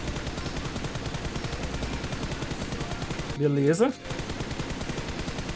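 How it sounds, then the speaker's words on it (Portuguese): Continuous, rhythmic automatic gunfire from the mobile shooter PUBG Mobile repeats steadily at a moderate level, briefly interrupted by a short spoken word. "mas agora vamos fazer atirando"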